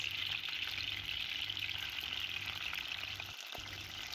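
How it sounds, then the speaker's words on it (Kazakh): Chicken wings frying in hot oil give a dense, even sizzle that holds steady and close throughout, with a brief dip near the end. "Тауық қанаттарын майымызға салып, 5 минут көлемінде екі беті қызарғанша жақсылап қуырып аламыз."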